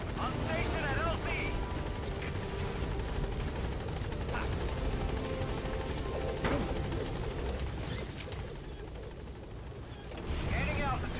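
In the Metal Gear Solid V video game, a helicopter arrives at a landing zone with a continuous rotor roar and engine drone. Voices speak over the noise.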